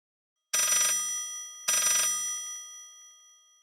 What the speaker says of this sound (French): La sonnerie du téléphone le sortit de sa léthargie.